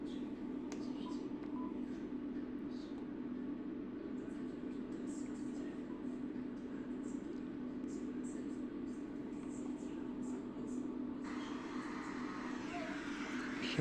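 Wide FM reception on an ICOM IC-7000 amateur radio transceiver: a continuous hissing, noisy broadcast signal with faint tones, steady throughout and fairly quiet.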